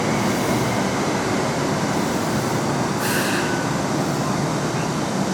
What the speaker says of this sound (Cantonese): 呢架車輕鐵5期列車，屯門輕鐵發現號，有迷你兵團與大怪獸